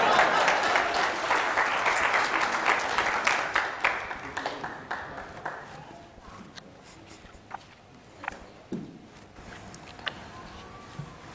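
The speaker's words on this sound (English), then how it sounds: "How come only two of you applauded?" An audience at a church meeting applauds, a dense burst of clapping at first that thins out into scattered, fading individual claps.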